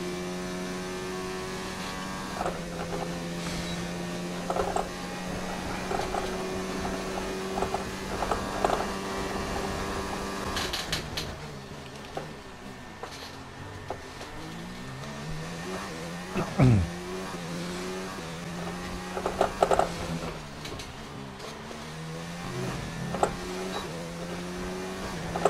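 A race car from the F1 2019 game pulls out of the pits onto the Shanghai track in China during qualifying, its engine humming and whining steadily as it picks up speed. A faint voice speaks briefly over it.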